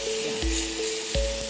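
Lamb ribs sizzle in mustard oil inside a covered pan, a steady broadband hiss with a few soft knocks, close and continuous with no talking.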